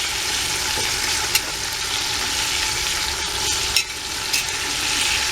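Sausage easing into hot grease sizzles steadily up close, broken by a few sharp clicks and scrapes from stirring, with no talking.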